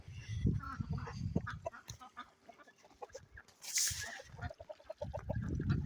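Chickens and ducks on an off-grid farm in the morning, including black Icelandic hens, with repeated clucks and calls close by, one brief high squawk partway through, and scattered farmyard noise throughout.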